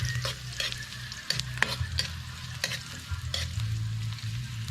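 Ginger frying in a hot pan for an Ilocano buro dish, with a soft continuous sizzle and a low hum, plus a series of sharp spoon scrapes and clicks against the pan.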